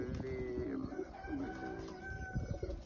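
Pigeons coo inside an airy loft, soft repeated throaty calls overlapping one another close by, with faint background sounds between them.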